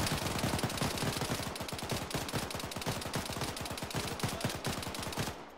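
Sustained machine gun fire from an Arma 3 firefight, a rapid, even stream of loud shots running close and steady for about five seconds before cutting off.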